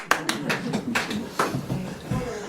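A small, brief round of scattered hand claps from a club audience, a few distinct claps at the start, then thinner irregular clapping fading out, close and modest in volume.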